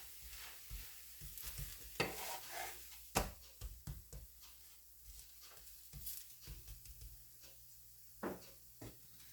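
A gram flour pancake is flipped and moved in an oily pan, giving soft sizzling under a run of spatula scrapes and sharp clanks against the pan, quiet and close with no talk.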